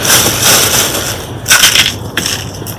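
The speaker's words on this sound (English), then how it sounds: "And then like eggshells, I just literally crush them right up with my fingers." Eggshells crushed between fingers for compost, a close, loud run of crisp crackling and crunching in a few quick squeezes.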